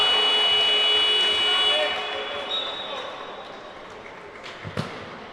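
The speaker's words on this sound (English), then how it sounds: "Hits it round the buzzer there." A loud, sustained electronic buzzer sounds at a basketball semi-final game, holding steady for about two seconds before cutting off, then fading into crowd noise in the arena with a couple of thumps afterward.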